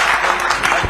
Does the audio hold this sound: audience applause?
yes